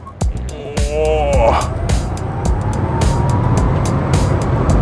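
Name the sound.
MG4 XPOWER electric hot hatch accelerating in a 0-100 launch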